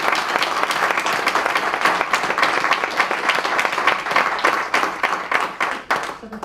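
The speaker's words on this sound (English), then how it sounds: "So a round of applause again for our students." Steady audience applause for drama club students at a school board of education meeting, with dense, individually distinct claps that fade slightly at the end.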